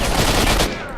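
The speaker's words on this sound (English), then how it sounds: "My gun did not want to fire fast enough." Rapid automatic gunfire in STALKER: Shadow of Chernobyl, a dense loud burst of shots filling most of the second before cutting off into a brief ringing tail.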